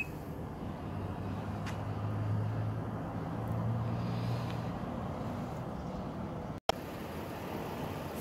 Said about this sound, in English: Here's a power tailgate.